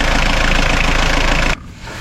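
Renault Kangoo 1.9 D diesel engine idling right after an oil change, a loud, steady close-up clatter that cuts down sharply to a quieter hum near the end.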